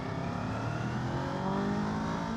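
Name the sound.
Kawasaki KLE 500 motorcycle accelerating in second gear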